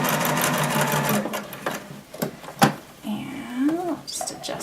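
Sewing machine stitching a gathered seam while the fabric is adjusted and turned, a steady close mechanical whir that pauses and restarts with small clicks and handling noises.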